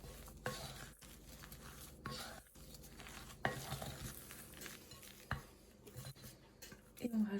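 Coconut cake batter stirred gently in a bowl, giving soft, irregular scraping and sloshing strokes at a close distance, with brief louder knocks scattered through the stirring and no talk.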